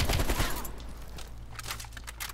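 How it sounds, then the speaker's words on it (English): AK rifle fire in Black Ops Cold War, a loud, close burst of rapid shots at the start that trails off into echoing reports and quieter distant pops. "That's such a smooth AK"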